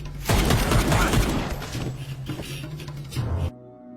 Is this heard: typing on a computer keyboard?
no